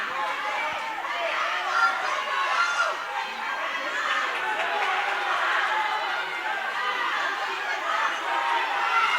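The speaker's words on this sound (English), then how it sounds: "You can hear the crowd starting to get into this one." Crowd noise at a wrestling match builds steadily, a dense, continuous roar of excited spectators with scattered shouts and chatter, loud and sustained throughout.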